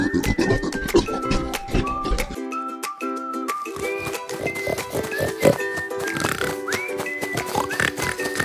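Farm pigs in a damp dirt pen give repeated short grunts and oinks. Scattered clinks and rattles and tonal, music-like sounds mix with them throughout.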